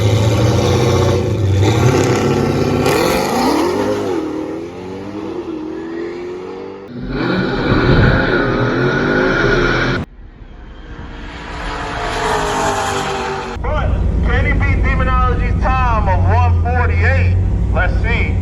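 A 1025-horsepower Dodge Charger Hellcat pushing 30 pounds of boost races another car, its engine roaring loud and close in surging bursts with rising and falling pitch, broken by a brief lull and drowned at times by crowd noise and voices.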